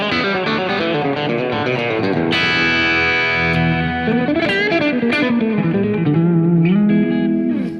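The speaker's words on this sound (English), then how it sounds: "if you can hear my delay right here, check it out." Dark, distorted electric guitar played through a delay effect, sustained notes and chords repeating and tapering off in long echoing trails, loud and continuous with no voices.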